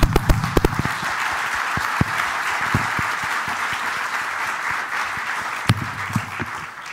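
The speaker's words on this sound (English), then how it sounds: "I think it's time to give Nat a round of applause" Audience applause fills a talk event for a startup founder, a steady wash of many hands clapping from start to finish, with a few sharper claps standing out.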